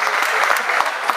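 Loud, close applause from an audience at a taekwondo event, a brisk burst of many hands clapping with a few distinct sharper claps, brief and dense.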